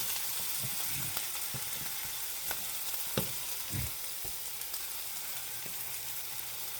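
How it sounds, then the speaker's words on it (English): Onions sizzle steadily in a hot pan, caramelizing with a bit of sugar, a constant bright frying hiss broken by a few soft clicks and stirring knocks, close up with no talking. "the sugar helps to caramelize our onions a little faster"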